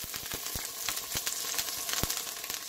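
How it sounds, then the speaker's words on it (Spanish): Meat frying in a home kitchen, a steady dense sizzle with scattered pops and crackles throughout, fairly close and continuous. "El sonido de la comida cuando se está preparando, las ollas hirviendo, la carne, todo."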